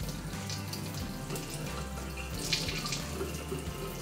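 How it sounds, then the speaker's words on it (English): Tap water pours steadily through a hose into an aquarium during planted-tank maintenance, a continuous close rushing and splashing flow with no speech. "I just find I get a more constant temperature coming out of the tap into the aquarium"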